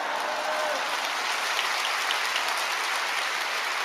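A church congregation at a Friday evening worship service in Seoul gives sustained, dense applause that fills the space evenly and holds without pause.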